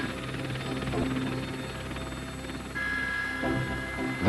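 An army training helicopter hovers over a mountain pinnacle, its steady rotor and turbine drone running constantly throughout, with a slight shift in tone partway through.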